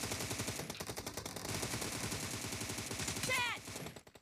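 Rapid bursts of automatic gunfire from a PUBG Mobile team deathmatch, dense and rhythmic, with a short whooshing effect near the end before the shooting drops away.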